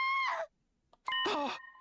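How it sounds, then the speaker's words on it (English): Two anguished screams in The Hundred Line -Last Defense Academy- video game, one short cry followed after a silent gap by a longer, louder wail, close and harsh with no speech over them. "I think a scream that came from around here."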